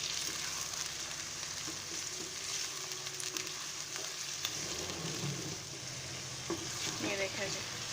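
Steady sizzling of mutton frying in a hot pan, a continuous crackle with occasional stirring scrapes, close and fairly loud.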